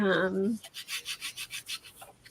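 A brief tone gives way to about eight rhythmic back-and-forth scratchy rubs of sandpaper on a coated card, close and moderately loud.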